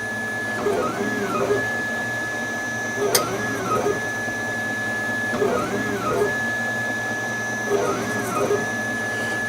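A home-built 3D printer at work, stepper motors whirring in steady repeating rising and falling tones as the print head moves, close and continuous, with one brief sharp click partway through and no talking.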